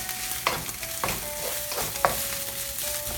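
Sticky sushi rice is stir-fried in a hot pan, a continuous close sizzle broken by repeated scraping and tapping strokes of a utensil against the pan.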